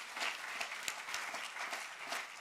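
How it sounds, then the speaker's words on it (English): Audience applause at a Demo Day pitch event, a dense, steady wash of many hands clapping together, moderately loud and continuous with no talking over it. "can we give her another round of applause"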